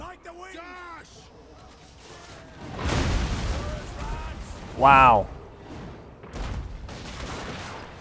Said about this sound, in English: See the dwarves letting down a nasty volley.